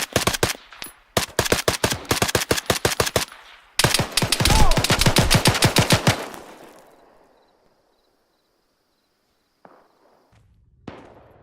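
Automatic gunfire in the video game Arma 3 comes as loud, rapid bursts of sharp shots separated by brief pauses, then a long fading echo, near silence, and a couple of faint later shots.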